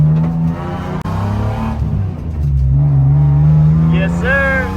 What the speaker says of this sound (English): First official drive with the supercharger.